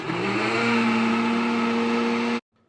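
A Ninja Pro 1000W blender runs with a steady loud motor whir for about two and a half seconds and then cuts off abruptly, with no voices.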